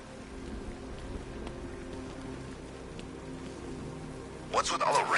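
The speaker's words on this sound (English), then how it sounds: "What's with all the rain?" Steady rain in Batman: Arkham Knight hisses throughout with faint background rumble, and a brief louder burst of splashing noise near the end.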